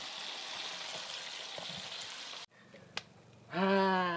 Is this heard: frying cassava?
yes